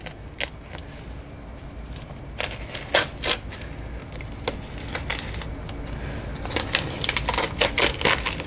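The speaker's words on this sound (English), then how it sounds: "Now we're going to pull this tape back." Masking tape is pulled back from a fiberglass metalflake repair in scattered crackling rips and snaps over steady background hiss, growing busier toward the end.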